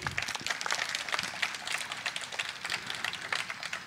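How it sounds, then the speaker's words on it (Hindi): A live audience claps at a Hindi comedy show, a steady patter of many hands sustained throughout, moderately loud with no clear talk over it. "मैं चाहूंगा कि एक बार आप तालियां बजा दीजिए"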